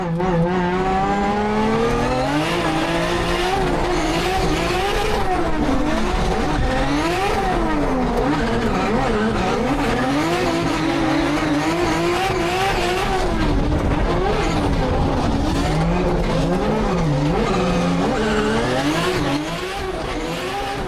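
Formula Drift pro cars, a BMW 1 Series and a Toyota GT86, drift around a track together, engines screaming and revving hard with continuous loud tire squeal, close and unbroken for the whole stretch.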